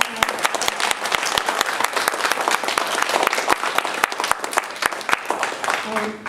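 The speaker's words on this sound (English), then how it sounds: "Can we give them just a round of applause?" An audience at a county election candidates' session claps for the candidates in a dense burst of applause lasting several seconds, with sharp individual claps standing out.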